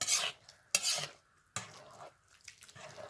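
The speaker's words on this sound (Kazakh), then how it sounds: "Бұл жерде енді дұрыстап араластырып аламыз қазір." A spoon scrapes and stirs food frying in a pan for a Kazakh-style dish, in three distinct, close stirring strokes with faint sizzling between them and no speech.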